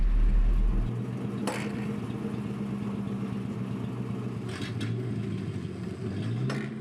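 A ZIL 130 dump truck engine running steadily at a low, even rumble as the tipper body lifts, with a louder thump at the very start and a few brief clanks during the lift.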